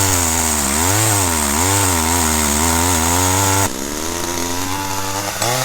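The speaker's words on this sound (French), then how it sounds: "pour couper du bois c'est une toute petite tronçonneuse" A very small hand-held chainsaw runs loud and close, its engine revving up and down in waves before dropping to a lower, steadier drone, with no voices.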